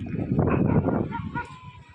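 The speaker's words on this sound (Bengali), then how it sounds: "সামনের কুত্তাটা ঘেউ ঘেউ করে" A dog barks a few times close by on the road ahead of a moving rider near a market, mixed with rumbling road and engine noise over about two seconds.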